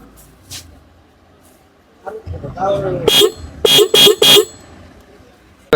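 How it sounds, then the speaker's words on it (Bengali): A motorcycle dance horn blares in several short, loud, tuneful blasts, a rapid series of toots following a brief rising warble. "হর্নের সাউন্ডটা কিরকম আসছে যা শোনাবো।"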